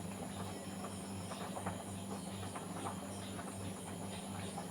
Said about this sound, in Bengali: এবার ওই কচুরমুখী আর আলু ঢেলে দিয়েছি, দিয়ে ভালো করে নাড়িয়ে নেব একটু।